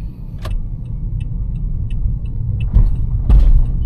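A 2014 Toyota Aqua GS hybrid driving on the road, heard from inside as a loud, steady low rumble with occasional bumps and thuds from the suspension, and no talk.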